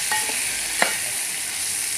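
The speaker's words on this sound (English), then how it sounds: "So we are going in with our finely chopped tomatoes. Toss everything together" Onions and finely chopped tomatoes sizzle in a pot, a loud, steady frying hiss with one clear clack of a utensil as everything is tossed together.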